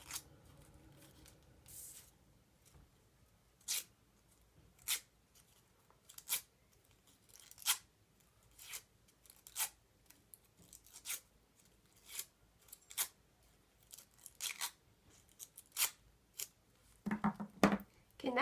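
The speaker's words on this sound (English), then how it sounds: "And I'm just using the edge of the scissors." Scissors edge drawn along paper daisy petals to curl them, a series of crisp short scraping swipes roughly every second, close and fairly quiet, with a brief rustle of handled paper near the end.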